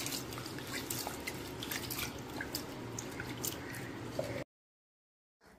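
Rice grains being swished and rinsed in water, a steady wet sloshing and dripping close by that runs continuously, then cuts to silence near the end; no talking.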